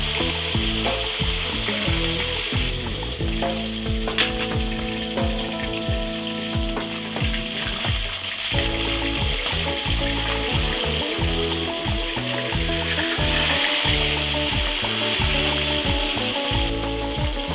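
Tilapia fries in hot oil in a pan, giving a loud, steady crackling sizzle throughout with scattered pops and some stirring clatter, and no talking.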